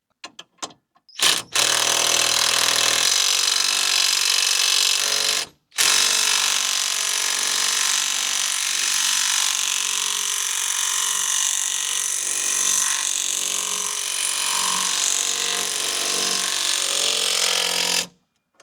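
A power tool tightens a nut on the rusted front knuckle of a Mk1 Ford Transit Connect, a loud, steady whirring drone running nearly continuously for over fifteen seconds with one brief pause early on.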